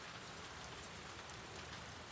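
Steady rain falling and pattering on surfaces in The Last of Us Part II, a continuous even hiss with no talk over it.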